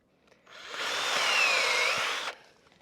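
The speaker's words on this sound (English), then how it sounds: "you want to try to be as stable as possible when you're drilling, because you want to prevent wobble" A power drill bores a tap hole into a backyard maple tree, a steady close whine of the bit cutting wood lasting about two seconds, with a faint rising and falling tone as it spins.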